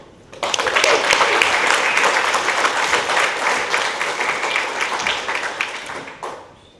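Audience applause at a San Jose Downtown Association annual meeting, welcoming the economic development director to the stage: dense, steady clapping from a crowd that starts abruptly, holds for about six seconds, then tapers off.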